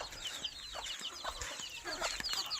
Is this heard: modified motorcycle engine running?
no